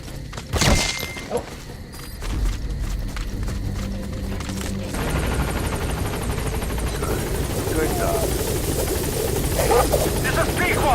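A helicopter in the video game Metal Gear Solid V: The Phantom Pain, its rotor chop loud and continuous after a few thumps and a crash at the start, with a radio voice talking over it.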